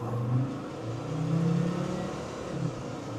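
A Land Rover Td5 with a ZF8HP automatic gearbox accelerating hard in eco mode, its engine note rising steadily and close, with the low drone holding loud and continuous throughout.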